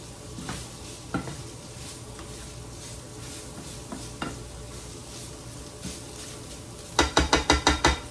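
A large chopped onion stirred in a pan, soft scraping and sizzle with a few utensil knocks, ending in a quick run of sharp clinks against the pan.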